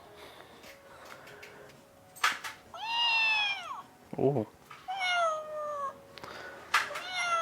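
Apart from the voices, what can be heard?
cat-shaped toy meowing when touched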